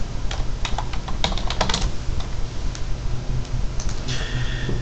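Rapid close typing on a computer keyboard while a database name is entered, a loud patter of clicky keystrokes in uneven bursts with no talking.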